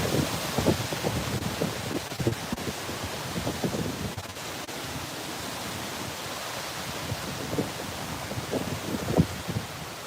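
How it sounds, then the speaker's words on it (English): Gusty wind from Tropical Storm Debby roars steadily past the microphone, with broadband buffeting that swells and eases across the clip and a stronger push near the end, no voices. "there's another good gust coming through"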